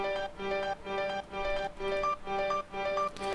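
A grand piano sound from the Nexus plugin runs through an upward arpeggiator pattern. Clear, evenly spaced notes repeat in a steady pulsing rhythm of about two to three notes per second, with no voices.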